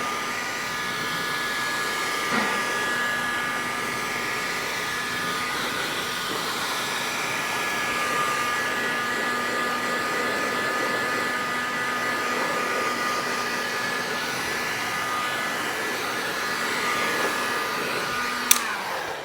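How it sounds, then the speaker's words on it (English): A hot air gun drying body filler on a rusty Citroen C1 blows with a constant, whining electric roar that holds steady throughout, ending with a sharp click near the close. "Now if you haven't got a hot air gun like so, then you can just use a hairdryer"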